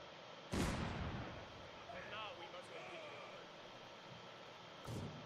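Mortar fire in a Company of Heroes-style strategy game: two sharp, booming launches or impacts, one near the start and one at the end, over a low battle rumble with a brief whine in between.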